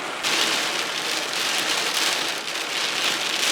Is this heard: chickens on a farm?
no